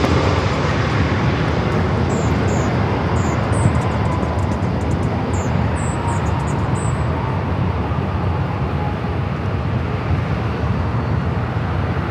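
A Boeing 787 Dreamliner takes off at LAX with a loud, steady, broadband jet roar that fills the whole stretch without letup, while faint high chirps sound briefly above it.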